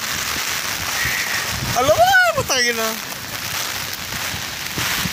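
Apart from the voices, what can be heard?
heavy rain falling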